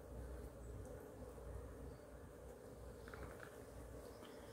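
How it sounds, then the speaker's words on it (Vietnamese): Honeybees hum at a bee farm with hives kept in boxes, a steady faint droning buzz filling the background with no talking. "nuôi hai đàn ong."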